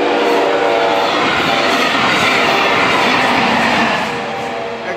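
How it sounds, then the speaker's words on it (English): A loud Brightline passenger train rushes past close by on New Haven Avenue in downtown Melbourne, Florida, its horn blaring over the roar of the wheels, then the sound eases slightly toward the end. "There goes Brightline Train"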